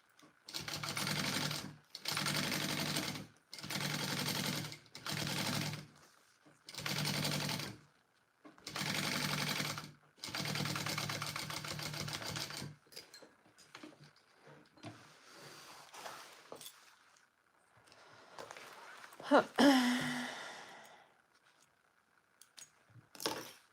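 A sewing machine bastes fabric in a series of short, even bursts of stitching separated by brief pauses, followed by quieter rustling and handling of the fabric.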